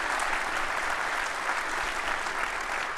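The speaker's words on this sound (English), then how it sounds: "they definitely, I think, deserve a round of applause" Audience at a technical talk giving a steady round of applause, dense even clapping from many hands filling the whole stretch with no talk over it.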